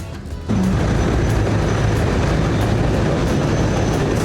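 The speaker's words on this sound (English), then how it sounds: "The train goes through Twister. I can hear it, but I can't see it." A loud, steady rumble of an amusement park train running at Knoebel's, passing through the Twister coaster area, with continuous wheel and track noise close by and no talking.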